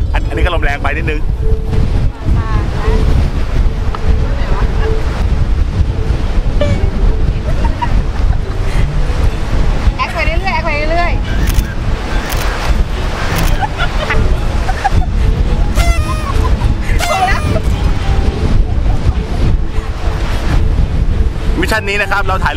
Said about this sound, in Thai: อันนี้ก็ลมแรงไปนิดนึง